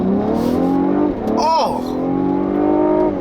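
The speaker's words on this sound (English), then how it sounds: "When you pair this potent V6 with all-wheel drive, man, this thing really pulls." A 2016 Cadillac CT6 with a 3.0 twin-turbo V6 and all-wheel drive accelerates hard, its engine note rising steadily in pitch through a gear change, loud and close, with a brief excited exclamation from the driver.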